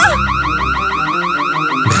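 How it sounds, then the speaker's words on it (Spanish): A car alarm sounds loud and close in an animated robbery scene, its warbling electronic tone rising and falling in a steady repeating cycle for about two seconds before cutting off abruptly. "¡Se ha activado la alarma!"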